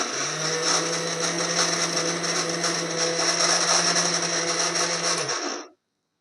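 A kitchen mixer grinder runs loud and continuous, grinding curry leaves and chilli into spice powder with a steady whirring whine, then cuts off abruptly at the end.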